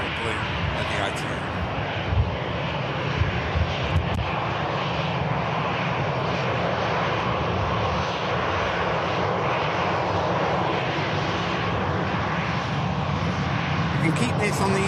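An EasyJet jet taxis at Manchester Airport with a steady, close engine roar and broadband rumble that hold for the whole stretch. Voices talk over it now and then.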